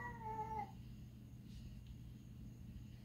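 A cat in a home lets out one short, faint meow that fades into a quiet low background rumble.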